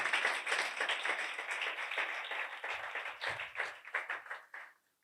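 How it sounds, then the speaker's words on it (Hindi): A church congregation claps loudly and steadily during a Hindi-language sermon, a dense round of applause that thins into scattered claps before stopping. "जोरदार ताली बजाइए अपने खुदा उनके लिए"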